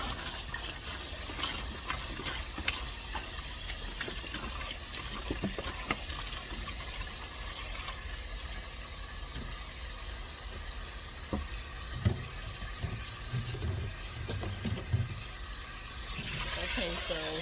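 Water poured from a bottle into the tank of a Gardyn indoor growing system during a deep clean, heard as a steady splashing gush with occasional knocks, close, with a brief voice near the end.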